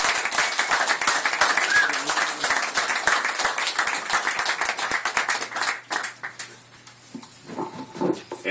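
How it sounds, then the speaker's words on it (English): Audience applause after a talk on the risks of a water diversion project, a dense wash of many hands clapping steadily for about six seconds before thinning into scattered claps and murmuring. "give her a round of applause"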